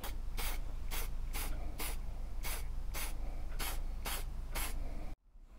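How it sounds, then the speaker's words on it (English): Short hissing bursts of lacquer spray coat a homemade knife blade, about ten evenly spaced sprays close up, ending abruptly in near silence. "So now I'm going to spray a little bit of lacquer on it"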